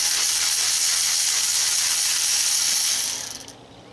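A ratchet working a bolt loose from a Toyota pickup engine gives a loud, steady buzzing hiss of rapid clicks that ends with a few slower, fading clicks, with no voices.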